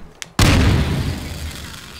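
A heavy bomb explosion from the Garry's Mod game Melon Bomber bursts suddenly after a brief click, followed by a long rumbling decay; no voices are heard.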